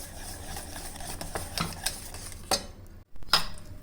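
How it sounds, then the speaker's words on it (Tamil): Chopped onion, capsicum, coriander and green chilli being mixed together for a vegetable oats omelette, with close, steady scraping and stirring strokes and a few sharper clinks near the end, no talking. "இதில் வந்து வெங்காயம் கேப்சிகம் கொத்தமல்லி பச்சை மிளகாய் இது அது கூட சேர்த்து நல்லா அப்படியே மிக்ஸ் பண்ணிடலாம்"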